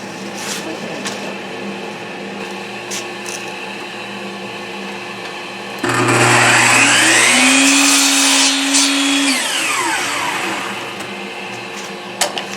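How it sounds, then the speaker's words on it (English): A shop vacuum switches on with a sudden loud whirring roar over steady background machine hum, climbs to a whine, then winds down after a few seconds. A voice command comes just before it. "Alexa, turn on the vac."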